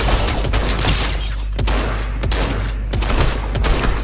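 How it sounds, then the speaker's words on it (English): Heavy shotgun blasts in Fortnite, several loud booming shots spaced through the stretch, roughly every second or so, over a steady game background. "I'm using the heavy shotgun here"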